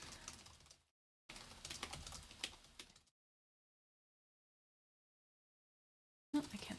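Typing on a computer keyboard, heard as quick, close clusters of key clicks in two short bursts separated by silence, followed by a long quiet stretch and another brief burst.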